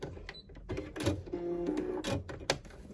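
A Baby Lock Brilliant sewing machine basting fabric for kids' underwear: short mechanical whirring runs with a steady hum, broken by clicks and pauses, close and moderately quiet, without speech.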